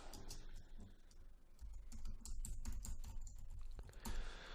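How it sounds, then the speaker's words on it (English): Someone types a line of code on a computer keyboard, producing dense, quick, close clicking keystrokes in an irregular rhythm that ends with a louder burst of taps, with no talking. "We're going to type the whole line"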